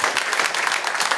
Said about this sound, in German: Applaus an beide Kämpfer.